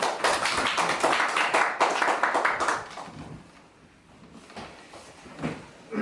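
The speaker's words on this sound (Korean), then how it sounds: "이병철 교수님 박수로 좀 맞이해 주시죠." An audience claps in welcome for a professor arriving to speak, a dense burst of applause lasting under three seconds before thinning out and fading into a quiet room with faint scattered sounds.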